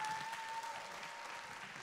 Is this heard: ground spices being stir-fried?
no